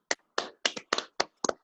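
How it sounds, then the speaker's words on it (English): A handful of crisp, separate hand claps for an honoree at a Rotary Club meeting held over Zoom, about six close, clean claps in an irregular rhythm with silence between them. "Let's give her a big round of applause."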